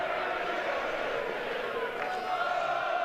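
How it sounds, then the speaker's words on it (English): Lancashire cricket crowd cheering during a Lancashire Lightning versus Leicestershire Foxes match, a sustained broad murmur of crowd noise with scattered shouts and faint whistles throughout. "The Lancashire crowd beginning to enjoy themselves now"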